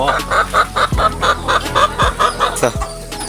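Chickens cluck in a busy, repeated rhythm close by, with a few sharper calls cutting through the steady clucking.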